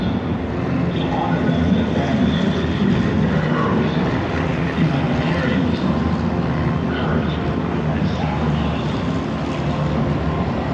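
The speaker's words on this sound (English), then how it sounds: "The flyover. Straight above." Aircraft flyover above the Daytona race track: broad, loud, steady roaring rumble sustained for about ten seconds, filling the air overhead with no clear voices.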